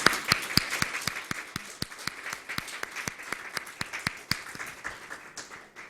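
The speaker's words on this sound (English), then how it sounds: "Please give a round of applause to all of our panelists." An audience at a school and community education panel gives the panelists a round of applause, a dense wash of many hands with a few sharper claps standing out, steady and fairly loud for about six seconds before tapering off.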